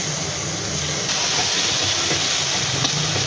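Grated coconut sautéed in ghee in a pan sizzles with a continuous bright hiss, steady and close for a few seconds, with no talking over it.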